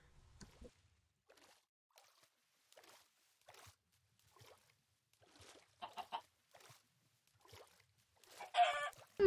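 Minecraft video game chicken clucking in short, faint bursts spaced through the clip, with a louder cluster near the end.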